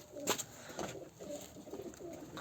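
Pigeons coo inside a pigeon coop in a few soft, separate calls with quiet gaps between them, fairly close but low in level, with no voices.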